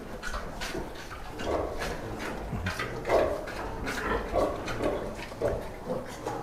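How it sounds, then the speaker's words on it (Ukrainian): Piglets, Yorkshire crossbreds, grunt and snort close by, short rough grunts coming every second or so over a rustling background. "І ці свинки"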